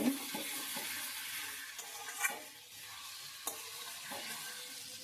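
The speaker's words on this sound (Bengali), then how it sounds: "ভালো করে কষিয়ে নিচ্ছি।" Spice masala being stir-fried in oil until the oil separates, with potatoes and eggs cooking nearby, a close hissing sizzle broken by periodic spatula scrapes against the pan.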